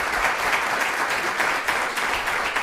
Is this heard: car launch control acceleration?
no